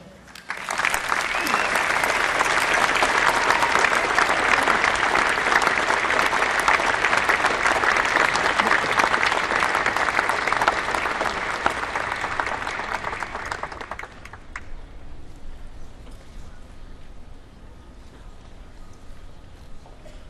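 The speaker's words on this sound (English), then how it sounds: "Let's have another round of applause." A large audience at Harvard's 2010 commencement afternoon program applauds the medalists in a loud, sustained wave of clapping that cuts off sharply near the end, leaving quieter room sound.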